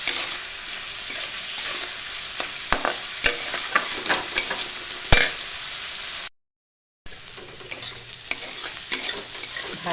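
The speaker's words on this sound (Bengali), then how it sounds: "এবার এটা নিয়ে আমি ভালো করে এটাকে ভেজে নেব" Maggi noodles fry in a pan with a bright, continuous sizzle, broken by sharp scrapes and clicks of stirring; the sound cuts out briefly for a silent gap, then the sizzle resumes.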